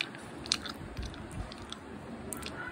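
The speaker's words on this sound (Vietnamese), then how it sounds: "Bắt đầu nhai từ từ." Yogurt-flavoured gummy candy being chewed slowly, close to the mouth, with soft, moist squishing bites and a few sharper crunchy clicks over a steady low murmur, no talking.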